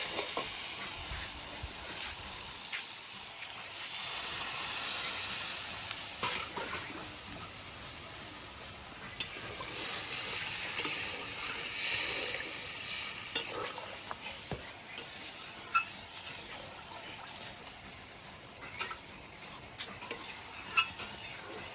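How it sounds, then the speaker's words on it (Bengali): Water added to a wok of well-fried masala for egg curry, setting off a loud hiss and sizzle, with stirring scrapes and scattered pops over a continuous bubbling fry. "এখন আমি এই অবস্থাতে জল দিয়ে দেবো।"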